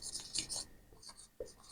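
Pen scratching on paper while accounting figures are written down: short bursts of dry, hissy strokes in uneven rhythm, close by, with soft talk mixed in.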